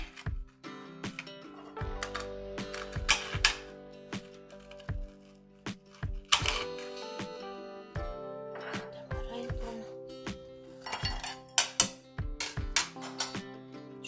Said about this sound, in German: Oreo-Kekse klein schneiden.